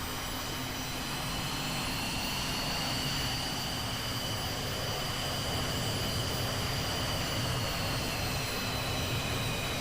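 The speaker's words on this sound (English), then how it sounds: "Engines on." Jet engines spool up in a VTOL VR fighter cockpit, a steady loud whine with rising high-pitched turbine tones over a continuous low roar throughout, no talking.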